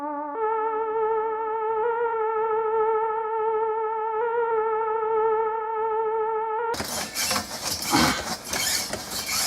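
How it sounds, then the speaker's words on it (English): A wavering theremin-style synth tone with steady pitch and gentle vibrato hums eerily for several seconds, then a burst of noisy, crackling synth sound takes over. "what's called the theremin synth"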